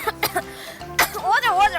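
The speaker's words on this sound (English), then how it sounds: "All of a sudden, Mita, you have a cough." A sharp cough with throat clearing, a few short bursts in close succession, loud and close, from a person in a Korean language lesson scene.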